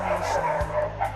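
Several dogs bark and yip, short yelping calls mixed with a whimper, fairly loud and near, with a voice faintly present underneath.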